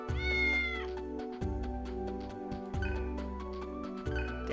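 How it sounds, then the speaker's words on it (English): A cat in the video game Digital Devil Saga 2 gives several clear meows in a row, each with a drawn-out rising and falling tone, heard over game music. "Definitely the same cat we saw in the junkyard."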